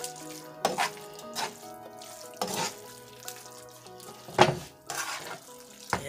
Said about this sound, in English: Just mix it up a tiny bit.